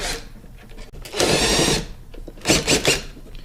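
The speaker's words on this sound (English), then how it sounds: "I'm just going to use a drill to get them out" A power drill removing oil pan bolts on a 1964 Dodge Custom 880 whirs in two short bursts with a pause between them, loud and close, with faint mechanical clicks around them.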